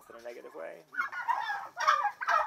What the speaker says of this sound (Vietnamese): Một người dân trong vùng đến trang trại của Andrew chọn đặt mua một chú gà Tây cho lễ tạ ơn sắp tới